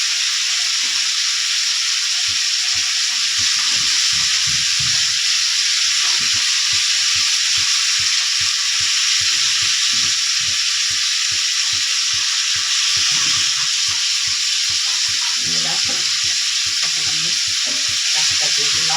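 Salted leafy greens (saag) frying in a pan, a loud continuous close-up sizzle and hiss with rapid rhythmic clicks and taps of stirring running throughout.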